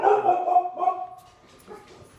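A dog barks a few times up close, the yaps fading into quieter whimpering toward the end.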